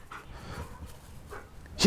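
An anti-poaching K-9 dog pants in short breathy bursts after tackling a suspect, close but fairly quiet, with a voice nearby and a sharper louder sound at the end.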